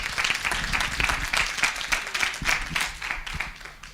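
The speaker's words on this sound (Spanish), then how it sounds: "Podéis aplaudir, ¿eh?" Audience applause at the close of a lecture on delivering bad news, a steady wash of many hands clapping through the whole stretch, moderately loud and fairly close.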